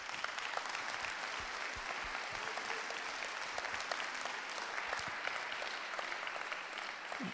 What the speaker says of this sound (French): Je te demande de l'applaudir